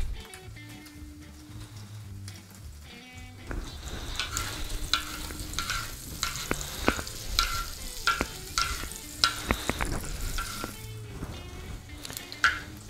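Coalho cheese searing in bottle butter on a heated plow-disc griddle: a steady sizzle that grows louder and denser partway through, dotted with spatula scrapes and clacks, with no voices.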